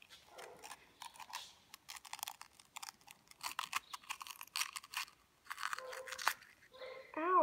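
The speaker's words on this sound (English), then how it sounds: "So I'm going to cut around the stalk." A knife cuts around the stalk of a peppadew pepper, making soft, close, irregular crunching and slicing sounds that run through the clip, followed by a few brief squeaky rubs near the end.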